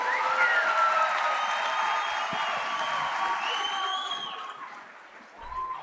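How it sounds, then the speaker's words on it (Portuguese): An audience at a political panel discussion applauds with steady clapping and a few cheers and whoops. The applause is moderately distant and thins out toward the end. "Uma salva de palmas para o Zema."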